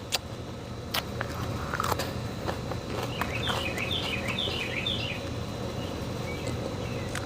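A bird chirps a short run of quick, high notes at a distance, alongside scattered clicks and crunching sounds up close over a low steady background.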